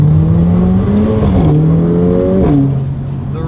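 A Mercedes-AMG A45 with a Racechip 845 tune accelerates, its loud engine note climbing through a gear change, with the pitch rising, dropping and rising again close to the listener.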